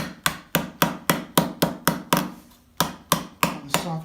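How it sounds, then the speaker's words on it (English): A 3-pound hammer bends an armor pauldron over soft wood, landing about a dozen sharp, ringing metal blows in a steady, quick rhythm with one brief pause partway through. "I use my trusty 3-pound hammer to do this."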